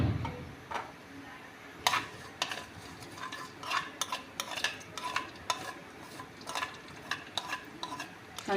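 Nigella seeds (kalonji) fry in a pan for tomato chutney, giving a soft steady sizzle broken by a string of sharp ticks and scrapes as they are stirred, close and moderately quiet.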